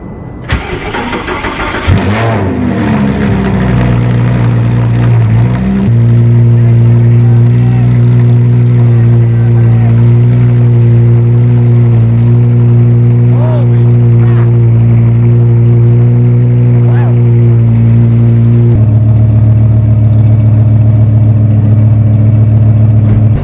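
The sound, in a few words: Lamborghini cold start engine revving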